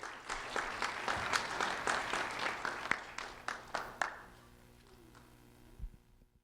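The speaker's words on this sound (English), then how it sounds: "a round of applause for Aaliyah Bryant, please" Applause from a modest audience for Aaliyah Bryant, a teacher, at a community event, with individual claps distinct and fairly close, fading out after about four seconds into quiet room noise.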